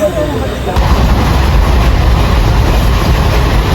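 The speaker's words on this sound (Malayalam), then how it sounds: "പാലക്കാട് ജംഗ്ഷനിൽ എത്തിയിട്ടുണ്ട് നമ്മളെ ട്രെയിൻ അതാ പോണ്" A train rumbles past close by at Palakkad Junction, a loud continuous roar of wheels and carriages that holds steady throughout.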